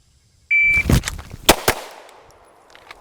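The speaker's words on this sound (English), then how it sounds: "do 2 shots at this one" Pistol shots fired during a point-shooting drill: a brief electronic timer beep followed by three sharp gunshots in quick succession, close and loud, with short echoing tails outdoors.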